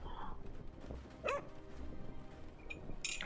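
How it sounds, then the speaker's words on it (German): A small cartoon dog in Overcooked 2 gives a few short, faint yips and barks over quiet game background sound. "Wuff, sagt er."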